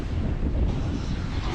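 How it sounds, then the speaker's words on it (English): Strong wind at Yallingup Beach, Western Australia, buffets the microphone with a constant low roar, and surf rumbles faintly underneath. "Windy Yallingup Beach."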